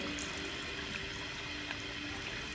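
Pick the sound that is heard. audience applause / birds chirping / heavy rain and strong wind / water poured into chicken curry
water poured into chicken curry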